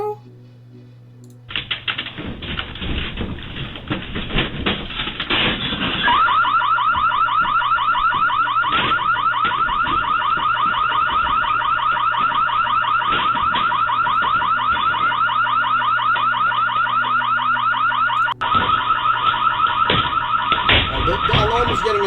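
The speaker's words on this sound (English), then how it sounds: "The alarm is getting annoying" A loud electronic alarm rings continuously for about twenty seconds after a brief quiet start, a harsh rapid pulsing tone with faint voices underneath.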